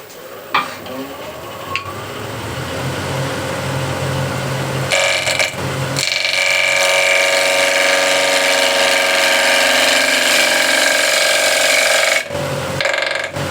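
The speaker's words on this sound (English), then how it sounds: "So here the wood wants to bounce off the gouge, so I need to slow down the feed rate and let the gouge cut the wood" A wood lathe whirs steadily while a gouge cuts into spinning wood, a loud continuous grinding hiss that swells after a brief pause, with short breaks where the tool lifts off.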